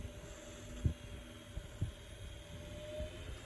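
An antique Ediswan desk fan fitted with a powerful sewing machine motor runs at moderate speed on a variac, giving a steady low electric hum with soft, irregular thumps.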